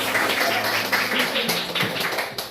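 Students in a classroom clap their hands together for everyone, a brief burst of scattered, fairly close applause with children's voices talking over it.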